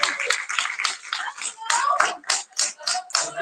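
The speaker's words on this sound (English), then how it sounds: "Keep on clapping" Audience clapping at a poetry slam bout after the judges' scores are read, a loose, uneven patter of hands with some voices mixed in, moderately loud and close throughout.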